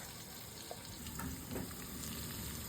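Green chillies sizzling in hot oil, a fairly faint, continuous hiss and crackle with brief stirring or clinking touches partway through, no talking.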